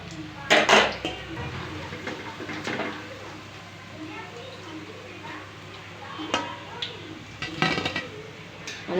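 A utensil stirs cauliflower pakoras in a pan, making a few sharp metallic clinks and scrapes over a faint frying sizzle, with background voices audible.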